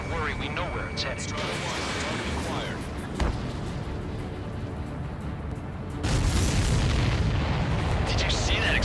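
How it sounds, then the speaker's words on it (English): An enemy supply ship blows up in the video game Ace Combat 7, a heavy booming blast that swells into a loud rumbling roar in the second half, layered over jet engine noise and game effects. "Did you see that explosion? Looks like that's one of them down."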